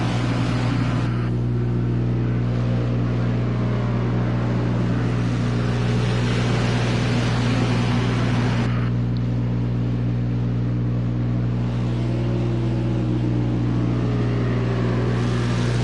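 Race cars roaring steadily in a sim racing game at a Japanese GP event, a continuous loud engine drone with strong low harmonics and a brief shift in tone midway, no talking over it.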